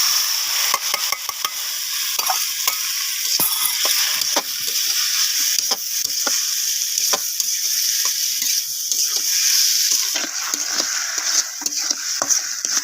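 Cucumber goes into hot oil with sautéed onion and chili in a village kitchen pan, giving a continuous close sizzle with frequent sharp spatula scrapes and clicks throughout and no talking.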